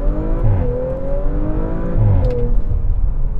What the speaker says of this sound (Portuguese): já dá para escutar o ronco invadindo a cabine